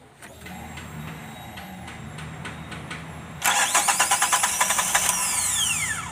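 A Suzuki F6A fuel-injected engine cranking on a hard start, a steady whirring starter under a faint hum, then a louder burst of rhythmic pulses as it turns over more strongly, close by.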